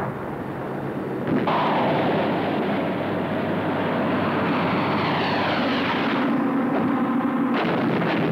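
Aircraft engine drone with a bomb drop in a James Bond film sequence, a sustained loud roar with a rising sweep and rumbling low end throughout.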